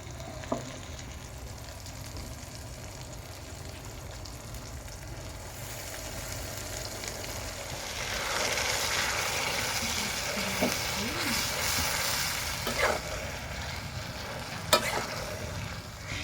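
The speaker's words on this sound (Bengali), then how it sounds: "এবার আমি আদা রসুনের পেস্টটা দিয়ে দেবো।" Ginger garlic paste hitting a hot pan, a continuous frying sizzle that grows brighter and louder midway, with occasional spoon scrapes and clinks as it is stirred, close up and without speech.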